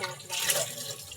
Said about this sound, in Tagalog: Hugas ako plato.